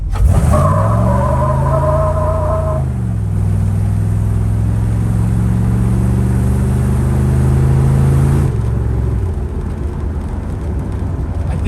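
A hot rod with posi rear end launching without a burnout and accelerating down a road, its engine loud and close, climbing through gear changes with a strong roar that drops briefly before pulling again.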